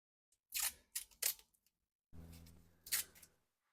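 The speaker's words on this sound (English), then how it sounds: "I'm just gonna make little strips of tape, just about this long" Tape being torn into small strips during classic car dashboard removal: a few quick sharp rips close by, a pause, then a longer crinkly pull and another tear.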